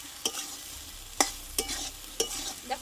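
Masala with papaya and gandal leaves being stirred and sautéed in a pan, with a few sharp scrapes of the spoon against the pan over a low, steady sizzle.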